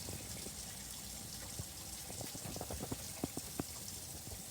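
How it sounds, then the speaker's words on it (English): Water running through a camper's water pump and plumbing system during a leak test, a faint, steady trickling wash with soft bubbling ticks and small drips scattered through it, heard alone. "you can hear the water moving in there"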